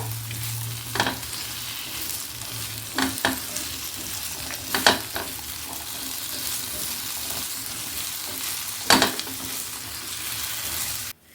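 Steady, gentle sizzling of okra frying in a pan, broken by a few sharp scrapes and clinks of stirring.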